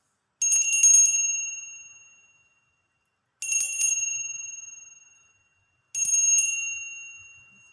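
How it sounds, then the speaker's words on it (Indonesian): A small bell with a bright metallic ring struck three times at roughly three-second intervals; each strike has a rapid trill-like onset and rings out slowly, clear and close in silence. "Kita akan memulai dengan lonceng berbunyi"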